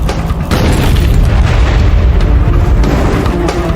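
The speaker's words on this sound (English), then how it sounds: "The tanker is filled with hexane, a highly volatile chemical that erupts in a massive explosion." A hexane tanker truck explosion: a massive, sustained roaring blast, loud and rumbling throughout, with a deep boom that keeps billowing without pause.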